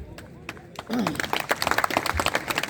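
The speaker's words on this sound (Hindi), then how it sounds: "ताली मत बजाइए" Audience clapping breaks out during a public speech at a Sardar Vallabhbhai Patel anniversary event, starting with a few isolated claps and swelling into brisk, dense applause, with a voice briefly heard early on.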